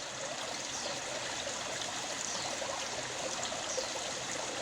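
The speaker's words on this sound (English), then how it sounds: "there's some water coming out there" Water trickles and flows steadily into a swimming pool being converted into a koi pond, a constant broadband wash of moderate level with no voices.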